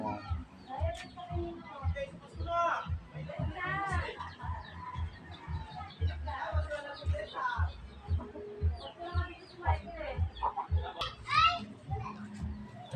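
Laying hens cluck and chatter repeatedly around their nesting spots, with children's voices and other talk mixed in close by.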